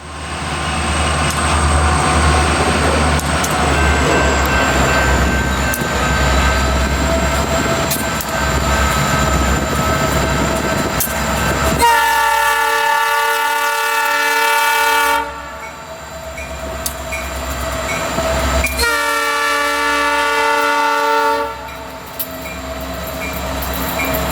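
Freight locomotive SLWC 6042 pulls out northbound on former Santa Fe track in Tulsa, a steady loud engine drone and rolling rumble broken by two long, sustained multi-tone horn blasts.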